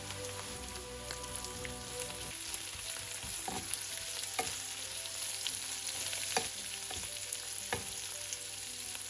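Onions and spices sizzle in a pan for Punjabi kadi pakoda, a soft, steady crackle like light rain with occasional sharper pops and stirring clicks, heard alone and fairly quietly.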